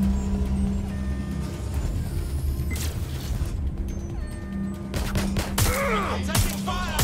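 Gunfire in the video game Watch Dogs Legion: loud bursts of shots and crashing impacts mixed with game vehicle and ambient noise, growing denser toward the end.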